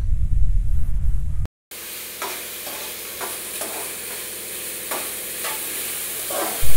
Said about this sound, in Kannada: ಅದೆಲ್ಲ ಫುಲ್ ಚೆನ್ನಾಗಿ ಫ್ರೈ ಆಗೋ ತನಕ ಮಿಕ್ಸ್ ಮಾಡಿ